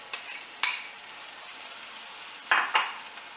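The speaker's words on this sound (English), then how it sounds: "And we're going to give it a good stir in." Tomatoes and chickpeas being stirred into a butternut squash curry in a pan, with a faint sizzle and two pairs of sharp, close utensil scrapes and clinks against the pot.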